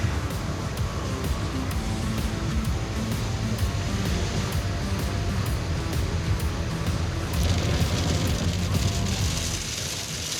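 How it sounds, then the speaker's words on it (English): Real rain falls on a stripped-down car at a dragstrip, a steady, dense hiss and patter heard from inside, swelling slightly toward the end with no clear speech. "Okay, this is real rain."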